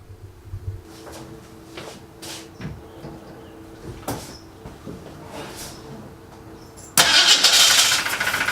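A 1966 Ford Mustang engine, long dormant, with the air cleaner lid off and fresh fuel in the carburetor bowls, cranks in short uneven bursts before suddenly catching and running loud and steady near the end.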